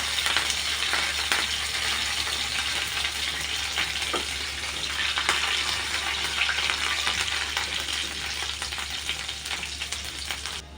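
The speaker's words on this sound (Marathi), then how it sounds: "तेल गरम झालेलं आहे आता आपण त्याच्यामध्ये लसूण आणि कढीपत्ता घेतला तो टाकू" Garlic and curry leaves frying in hot oil, a loud, dense continuous sizzle with occasional stirring scrapes and crackles, close by and steady for the whole stretch with no talking.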